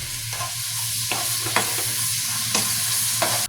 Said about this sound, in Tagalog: Hinawi ko na muna yung karne tsaka natin igigisa naman yung bawang.